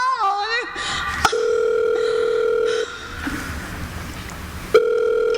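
Telephone signal tones from a caller's handset, a steady dial-type tone repeating in long bursts with brief gaps, loud and close, with no pickup.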